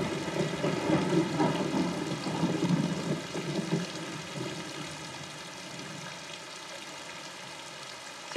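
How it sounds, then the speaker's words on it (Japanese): Heavy rain pouring down in a wartime scene, a dense hissing roar that is loudest early and eases to a softer steady patter toward the end, with no talking over it. "下这么大的雨，"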